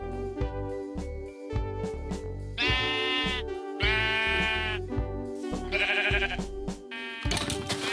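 Minecraft sheep in the SevTech Ages modpack, including a black sheep, bleat several times in short separate calls over a steady game music drone, fairly close and clear, with no talk.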